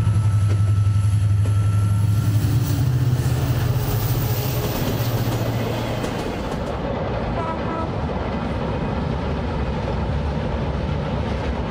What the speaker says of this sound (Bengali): চাঁপাইনবাবগঞ্জের রহনপুর থেকে রাজধানীর উদ্দেশ্যে যাত্রা কৃষিপণ্যের বিশেষ এই ট্রেনটির